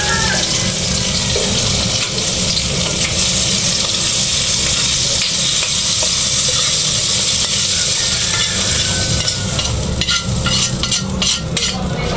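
A sautéed Filipino-style dish fries loudly in a pan, a dense continuous sizzle with some watery hiss and stirring near the end, no talk.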